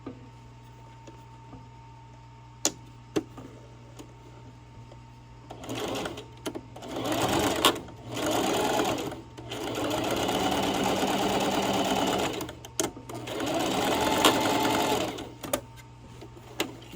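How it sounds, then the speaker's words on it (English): A sewing machine running in several bursts of rapid stitching, whirring and clattering close by, separated by short pauses with a few clicks and a low steady hum underneath. "And we're off to sew."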